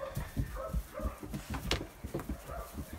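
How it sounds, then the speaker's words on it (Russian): Close by, a dog whimpers and gives soft yips and short snuffling noises in an uneven rhythm while being petted and coaxed in preparation for winter. "Иди сюда, моя собачка красивая какая"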